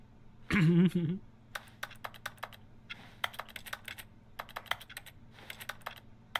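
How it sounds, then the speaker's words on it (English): Crisp keyboard-like clicks from the video game The Stanley Parable, tapping in irregular bursts and clusters, with a brief loud voice-like sound near the start. "every single click sounds like a keyboard"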